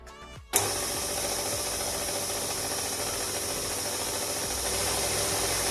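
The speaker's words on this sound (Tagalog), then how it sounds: "Gagamit ako ng stand mixer. Lalagay ko yung sugar. And i-start ko na siyang i-knead." A stand mixer kneads flour and sugar, running as a steady, loud mechanical whir with a faint ratcheting texture after it switches on, continuous and alone.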